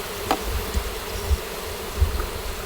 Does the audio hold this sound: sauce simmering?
no